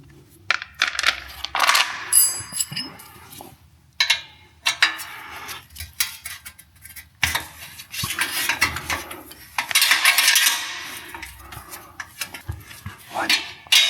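Metal screws and a plastic panel being removed from a CFMOTO 450MT motorcycle while fitting a Hepco & Becker skid plate, heard as scattered metallic clinks, rattles and scrapes in irregular bursts, close and fairly loud, with short pauses between.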